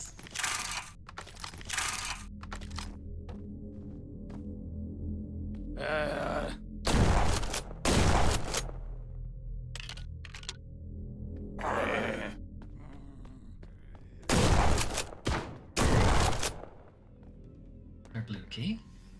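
Shotgun blasts in a first-person shooter video game, several loud broadband bursts at irregular intervals, some doubled, over steady game background sound and music.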